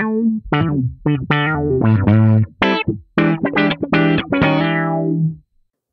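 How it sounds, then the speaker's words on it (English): A Zorg Effects Love Philter filter pedal sweeps the tone of an electric guitar as a quick run of distorted picked notes and chords plays loud and close, ending in a brief ringing fade. "the love filter will start sweeping frequencies from the frequency selected with the"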